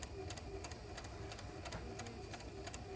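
A sewing machine stitches fabric in a makerspace, running steadily with a rapid, even mechanical ticking rhythm close by throughout.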